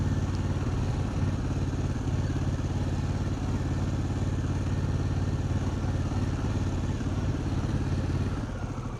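A motorcycle engine idles steadily and loudly close by, with a low rumbling clatter that holds the whole time.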